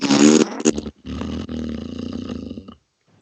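A voice imitates a long, rumbling, blubbery fart, loud and close, with a sputtering start, a brief break, then a sustained buzzing rasp that trails off into silence.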